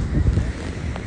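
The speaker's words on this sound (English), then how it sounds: "It's pretty windy" A brief burst of low, rumbling wind buffeting the microphone on Venice Beach, loud and continuous for about a second.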